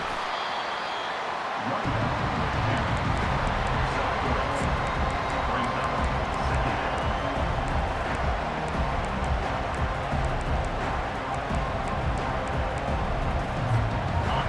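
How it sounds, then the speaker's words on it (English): Loud, dense crowd roar at a Colorado State vs Miami football game that swells in after a brief quiet start and holds steady, a packed stadium cheering and shouting together. "It is getting loud as this crowd tries to help its defense."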